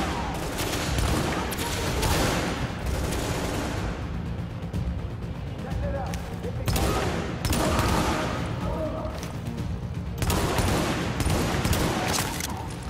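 Heavy gunfire fills a firefight at the Hudson Refugee Camp in The Division, with continuous overlapping volleys and bursts, loud and dense, and occasional louder surges as the shooting intensifies.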